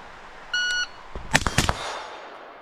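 A shot timer gives one electronic beep, then after a short pause an 11.5-inch short-barreled rifle fires two quick, loud, close shots, their echoes trailing off outdoors.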